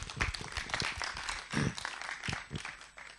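Applause from a talk audience greets two speakers at a game-industry event, a fairly faint, uneven patter of clapping that swells briefly midway.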